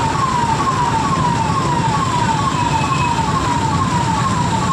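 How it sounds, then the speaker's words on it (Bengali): Police car sirens wail in a traffic jam on the NH34 highway near Berhampore, Murshidabad, West Bengal, India, with loud, repeating falling tones that sweep continuously over a dense rumble of road noise. "এই সামনে একটা পুলিশের গাড়ি, এত পুলিশের গাড়ি ফেসে গেছে কী করে?"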